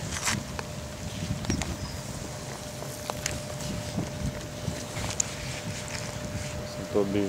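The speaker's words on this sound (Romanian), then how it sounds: "Bate și vânt aici." Wind gusts across an open riverside fishing spot in September, a steady broadband rush with a few knocks and rustles close by, no talking.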